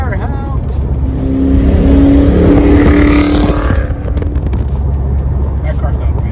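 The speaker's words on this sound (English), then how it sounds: "That car sounds good." Car engine running steadily on a road trip among many cars, a continuous close rumble with a swell in the middle as it revs, under people talking.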